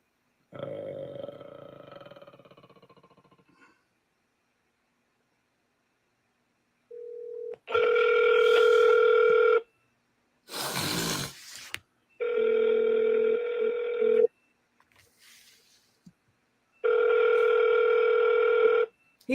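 A telephone rings during a live call-in show, sounding a repeated steady electronic ring tone in long bursts separated by pauses, clear and close, with a short burst of voice before the ringing begins.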